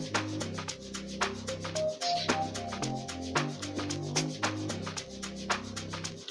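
Deep amapiano log-drum style bass in an FL Studio Mobile beat, punchy repeating notes over crisp percussion hits in a steady groove, full and upfront with no voices.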